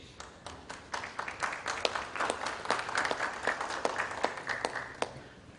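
An audience at the SecureIT 2015 inaugural session applauds as a guest is welcomed on stage, a brisk burst of many hands clapping, fairly close and steady, building slightly before tapering, with no speech over it.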